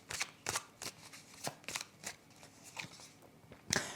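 A deck of tarot cards is cut and handled in a quiet room, a series of soft crisp riffling snaps and flicks spaced irregularly, close and fairly faint.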